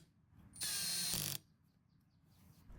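Ratchet tightening long bolts on a Weedeater edger carburetor: one close, loud rapid clicking run lasting under a second, followed by quiet workshop background.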